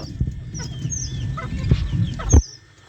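Black Mille Fleur chickens, a pair in a small backyard pen, clucking in soft scattered calls at close range over low background noise, with a louder burst near the end before the sound drops away.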